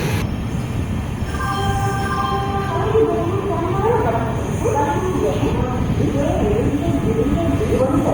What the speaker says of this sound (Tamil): பெங்களூர் மெயில் தான் அது